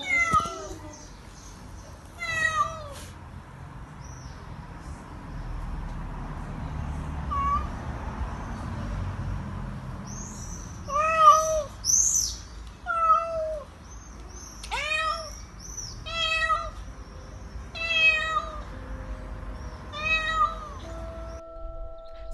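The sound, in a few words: caged cats meowing loudly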